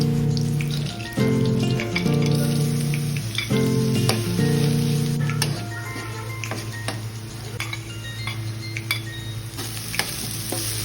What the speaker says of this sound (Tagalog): Tapos, igigisa niya na ang luya,